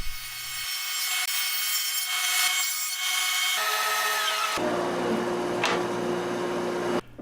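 A table saw runs shallow grooves around a wooden shelf panel for a heavy-duty floating shelf, giving a loud, continuous whining and grinding drone that shifts in pitch as the cut changes, close up and with no voices.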